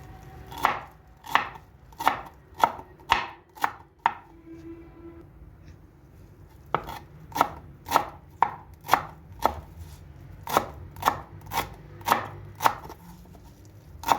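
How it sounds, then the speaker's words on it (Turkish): A knife chops parsley steadily on a cutting board, crisp evenly spaced strokes with a brief pause partway through, close and clear with no talking. "Maydanozumuzu doğrayalım"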